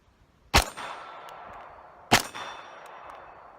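Two sharp, loud reports from a gas-powered FN FNP 45 airsoft pistol, spaced about a second and a half apart, each a crisp metallic crack with a short ringing tail, close up with no talking.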